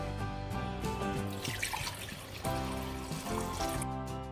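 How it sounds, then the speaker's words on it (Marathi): Soaking water is poured off rice being prepared for idli, a steady trickling and splashing into a sink that runs throughout under a constant tonal background. "आता हे पाणी आपण काढून टाकूया।"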